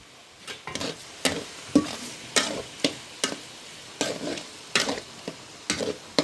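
Half a kilo of small chingri (chammach) shrimp stirred in a frying pan, a spatula scraping in repeated short strokes about twice a second over a steady low sizzle, close and clear with no talk.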